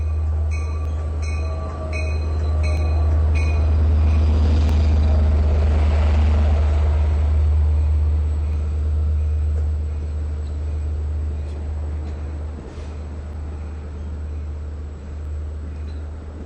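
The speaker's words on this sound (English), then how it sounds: "Looks like 519 is rolling in the lead. Wow, look at the length of this train." A long Long Island Rail Road train, 8705, rolls through Mastic-Shirley station with a deep steady engine drone, horn blasts at the start and wheel clatter as the cars pass close by.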